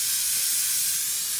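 A Cryolin Professional Makeup Ultra Setting Vaporizer sprays, giving a steady, close, bright hiss of mist that holds evenly for over a second.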